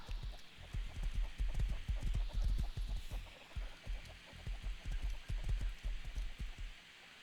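Horse hooves clip-clop steadily and loudly in the survival video game Rust, a fast, continuous run of close hoofbeats with no talking.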